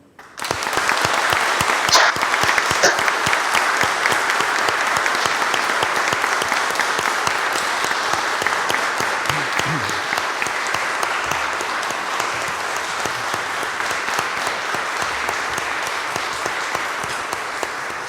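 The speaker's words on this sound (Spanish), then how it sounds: "Aplaudamos este logro." An audience applauds new lawyers at a swearing-in ceremony before the Supreme Court, a loud, sustained roomful of clapping that holds for the whole stretch and eases slightly toward the end.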